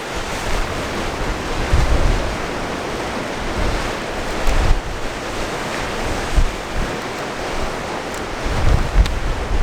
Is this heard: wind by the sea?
yes